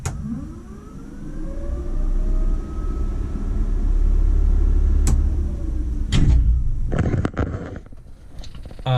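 A 1959 Ford Ranchero engine runs steadily with its electric cooling fans switched on, a loud, continuous low rumble and whir close by, with a few sharp clicks and knocks near the end.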